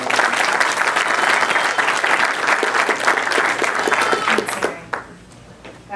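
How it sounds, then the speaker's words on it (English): Audience members greet a guest speaker at a talk with loud, sustained applause, many hands clapping together before it fades quickly to a faint hush near the end. "Please give a big round of applause for Megan Allman."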